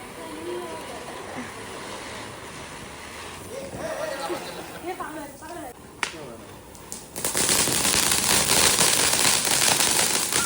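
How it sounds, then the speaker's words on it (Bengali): Diwali firecrackers crack nearby, a sharp single bang landing amid family chatter, then a dense rapid burst of crackling explosions takes over loudly for the last few seconds. "ভীষণ মজা করে বাজি ফাটিয়েছি বল ভাই"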